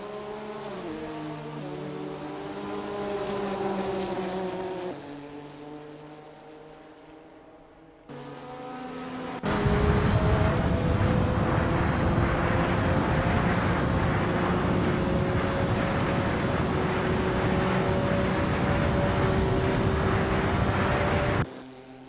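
Porsche 962 C Long Tail race car on an out lap in Assetto Corsa, engine droning with rising and falling revs, then a louder, steady roar held for over ten seconds before cutting off, no talk.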